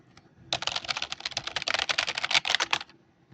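Rapid typing on a computer keyboard in a setup at a concert site in Batanes, a dense run of close, crisp key clicks lasting about two and a half seconds with no talk.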